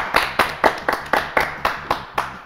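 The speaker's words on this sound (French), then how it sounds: "On applaudit Juline." Studio audience on a French TV game show clapping, a regular run of about nine sharp, evenly spaced claps close to the microphone with no speech over them.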